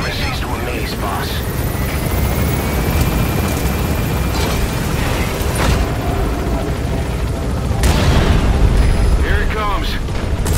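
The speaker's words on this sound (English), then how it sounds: "Use the chopper's minigun." A helicopter in the video game Metal Gear Solid V drones continuously under heavy game noise, with booming impacts and bursts layered on top and a voice speaking over it.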